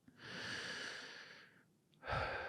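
A deep breath drawn in slowly over about a second and a half, then a short pause and a strong exhale, close and quiet.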